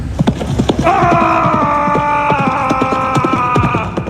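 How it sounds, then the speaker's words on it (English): A small horse gallops into a fight in a fantasy video game, with rhythmic hoof clatter under a sustained tonal whinny-like sound. "He gallops in on his small horse, his blade swinging directly towards Lian."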